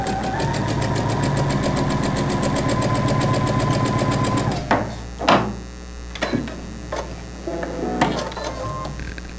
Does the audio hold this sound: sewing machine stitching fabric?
yes